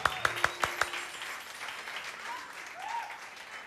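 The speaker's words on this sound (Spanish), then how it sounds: "Un aplauso para el señor" A few sharp, separate claps open the moment, then a soft, thin applause from the audience of a children's wind orchestra follows for a performer, fairly distant and quiet.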